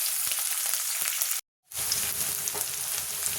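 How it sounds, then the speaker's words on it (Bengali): Chopped onion, green chili and garlic sizzling in hot mustard oil in a pan, a steady close crackle that cuts out briefly for a moment before resuming. "দিয়ে আমি এগুলো ভালোভাবে ভেজে নেব"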